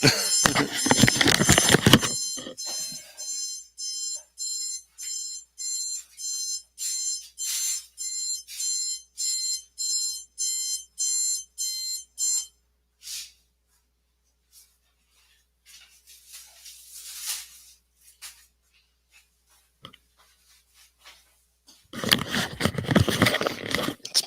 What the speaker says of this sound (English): My alarm went off to let me know that I should get up.